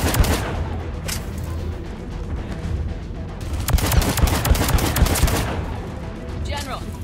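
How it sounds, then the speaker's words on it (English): Pistol gunfire in the video game Mass Effect 3 cracks in rapid, dense bursts over a thick layer of battle noise, with loud sharp shots clustering midway and easing toward the end. "just to show you how the pistol works"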